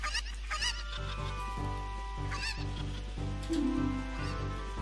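Cackling fowl squawks from a chicken in Zelda: Ocarina of Time, short bursts over game music, with one louder honking call near the end.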